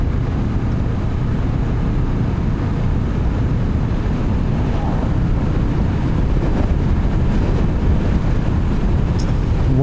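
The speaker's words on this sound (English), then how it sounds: "Wind off that dump truck was interesting." A strong wind gust from a passing dump truck buffets a Honda SCL500 rider, a dense steady roar of wind and road noise heard close and loud throughout.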